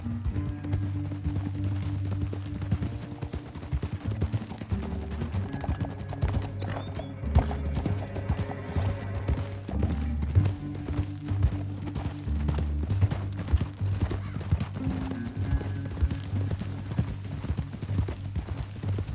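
Horses gallop in Red Dead Redemption 2, steady clip-clop hoofbeats running continuously over a low droning music bed, with an occasional neigh.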